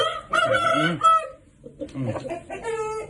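A young rooster crows loudly and close by at a poultry market in Qumtepa, Fergana, then crows again after a brief pause, with no other sounds around it.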